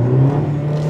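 Inside a Hyundai Ioniq hybrid driven in first gear, a steady engine drone hums with a low tonal whine, close and loud, holding level through the brief moment.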